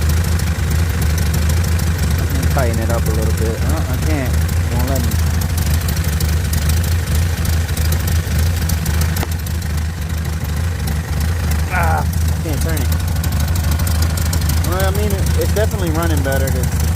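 A 1972 Toyota Corolla TE28 engine idles loudly and steadily after a carburetor adjustment, with a constant low rumble throughout and people talking briefly over it.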